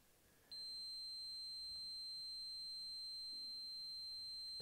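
A RADTUS R103 keyring Geiger counter sounds its alarm: after a short quiet moment, a steady, piercing high-pitched electronic tone switches on and holds continuously, close and alone.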